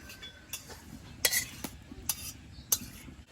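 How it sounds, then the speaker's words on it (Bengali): Boiled flat beans scraped from a pan onto a plate: a few sharp utensil clinks and scrapes spaced through quiet background, close and fairly soft, with no talking. "সিমটা সেদ্ধ হয়ে গেছে জল মরে গেছে এবার প্লেটে ঢেলে নেব"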